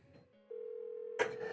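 A telephone ring in the video game Persona 4: one sustained electronic tone holds steady for about a second, then a short burst of brighter noise cuts in near the end.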